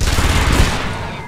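Rapid burst of automatic gunfire in the video game Aliens versus Predator (2010), a dense rattling fusillade that fades out within about a second.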